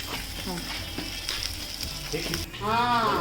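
Garlic dropped into hot oil sizzles steadily beside a fish and prawn fry, a close bubbling hiss with a few clatters and a muffled voice in the background.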